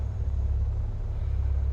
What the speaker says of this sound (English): Engines are at idle.